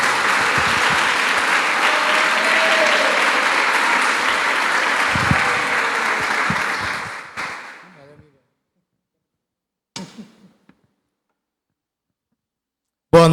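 Church congregation applauding loudly to welcome the pastor, a dense sustained wave of clapping that fades out after several seconds, followed by near silence with a couple of faint knocks.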